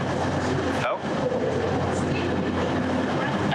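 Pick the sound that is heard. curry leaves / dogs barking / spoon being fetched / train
train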